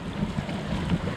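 A sailboat motoring with its sails down in pouring rain gives a low, steady engine drone mixed with gusting wind and water wash, in a short, continuous stretch.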